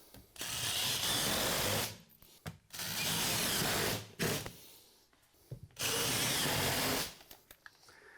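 Screws are driven into a piece of plywood with a power drill in three loud, sustained whirring bursts, each roughly one to two seconds long, separated by brief pauses with small knocks and handling sounds.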